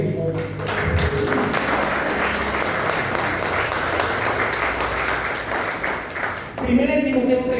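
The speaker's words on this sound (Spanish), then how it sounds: "Den un aplauso al Rey, por favor." Church congregation applauding their king during a Spanish-language service, a dense steady wash of clapping lasting several seconds before fading into a voice.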